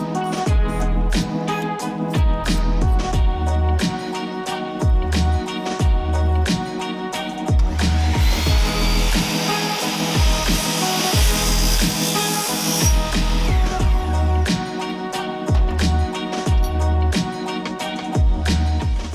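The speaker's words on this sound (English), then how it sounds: "So what I gotta do now is cut off this excess aluminum T-track." Power tool cutting off excess aluminum T-track on a cross cut sled: loud, close mechanical rasping with a rhythmic pulsing pattern, rising into a bright hissing cut in the middle, then settling back into the steady churning.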